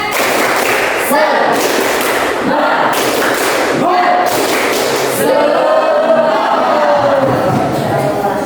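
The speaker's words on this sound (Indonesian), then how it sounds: "kita tepuk semangat dulu. Tepuk semangat" A class of Indonesian schoolchildren performs a rhythmic spirit clap together, loud and close, with bursts of claps and thumps mixed with shouted voices from the group.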